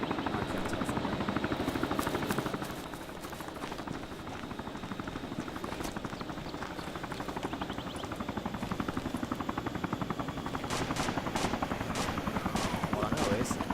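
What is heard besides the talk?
helicopter flying overhead in the video game DayZ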